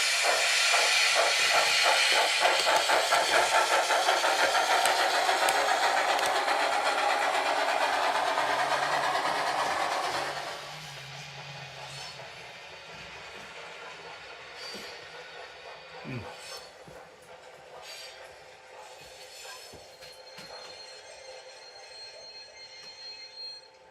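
An N scale Scaletrains N&W class J model locomotive runs backwards at full throttle with a loud whirring, hissing rush for about ten seconds, then drops to a faint hum with scattered clicks and rattles.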